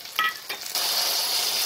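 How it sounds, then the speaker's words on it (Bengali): Onion, ginger, garlic and green chilli paste frying in a pan, a short stir and clatter giving way to a steady, bright sizzle with no talk. "পেঁয়াজ, আদা, রসুন, কাঁচা লঙ্কা ভাজা হয়ে গেছে।"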